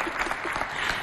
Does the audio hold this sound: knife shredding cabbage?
no